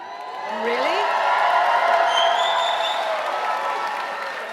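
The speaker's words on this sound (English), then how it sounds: "whooping and hollering and shouting and cheering is encouraged" Graduates at a UCSF School of Dentistry commencement whoop, holler and cheer, with sustained crowd noise and high rising whoops swelling and holding for several seconds.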